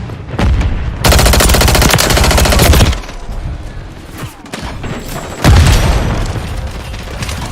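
Stun grenade blasts and rapid gunfire in a tactical shooter game at a nuclear site, with a dense loud burst of automatic fire, a lull, then a sharp bang followed by more firing.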